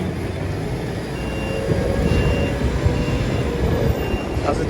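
A small Merlo telehandler loading logs and soil gives a steady, high mechanical whine over a low engine rumble, swelling slightly midway, with no talking.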